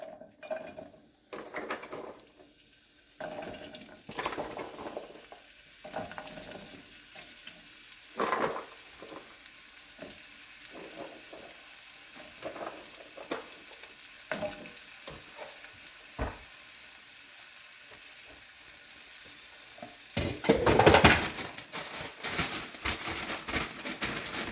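Frozen broccoli florets and organic vegetables stir-frying in extra virgin olive oil, giving a quiet sizzle with scattered clanks and scrapes of a utensil against the pan and a louder burst of spitting near the end.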